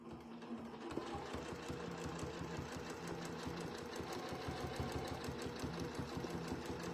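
A sewing machine stitches a quilt in a lampshade design, running steadily and close for the whole stretch with an even mechanical chatter and no talking.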